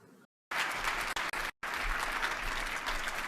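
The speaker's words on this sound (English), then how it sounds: "another round of applause for Academy Award winning actor, Mr. Forrest Whitaker." A crowd at the All-Inclusive Awards 2021 applauds steadily, broken by short silent gaps, with no talk over it.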